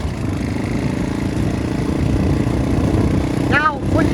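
A motorcycle engine running at a steady mid-pitched drone while the rider shifts up into second gear, close and continuous, with a brief squeal near the end.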